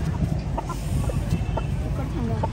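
An Aseel rooster gives short, scattered clucks amid a noisy backdrop of a vehicle's rumble, with people talking nearby, the calls faint to moderate and intermittent.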